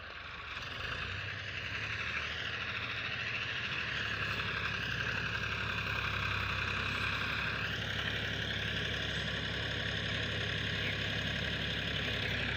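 Two old Ford diesel tractors, a 1980 Ford 3600 and a 1975 Ford 4000, run steadily close by, a continuous loud engine drone with knocking texture throughout and no talk.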